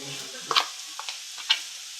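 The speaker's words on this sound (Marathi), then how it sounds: "लसूण टाकूया, आता कढीपत्ता, हळद टाकूया" Garlic, curry leaves and turmeric dropped into hot oil give a brief soft sizzle, followed by a few light spoon clinks and scrapes against the pan before things go quiet.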